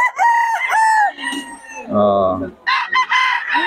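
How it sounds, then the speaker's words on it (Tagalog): A nine-month-old stag crows once at a weekly market in Bocaue, a loud, close, drawn-out crow rising between stretches of someone talking. "Ano to mga stag? 9 months mga idol, stag."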